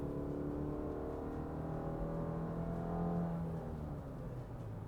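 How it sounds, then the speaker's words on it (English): A 2023 Subaru Forester Wilderness with a CVT and 182 horsepower accelerates, its engine drone rising steadily and holding a smooth, sustained pitch, heard from inside the cabin with no talking. "Let's go ahead and get an acceleration test."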